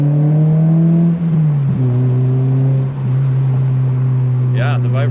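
Toyota Celica GTS-R exhaust after a gasket repair, idling with a steady low drone and a slight dip in pitch, running continuously close to the microphone with no rasp; a brief higher burst of noise near the end.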